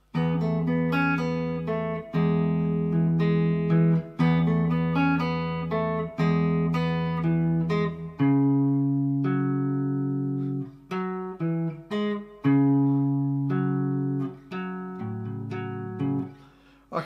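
Solo fingerstyle guitar plays the verse of a song, with plucked chords and a low bass note and picked melody lines ringing close and clean, no voice over it.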